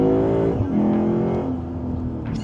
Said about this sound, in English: now we're gonna do a little wide open throttle while the valves are open